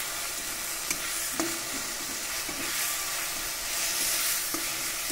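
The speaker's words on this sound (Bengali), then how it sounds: "এবার মশলা খুব ভালো করে কষিয়ে নেব।" Spice masala of salt, sugar, turmeric and chilli powder fries in hot oil for a rui fish curry, with a constant close sizzle and occasional scraping stirs.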